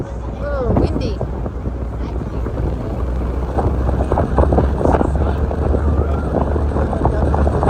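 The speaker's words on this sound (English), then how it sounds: "Oh, windy." Steady wind rumble buffets the microphone outdoors on a New York ferry, with a person speaking briefly over the gusty, broadband roar.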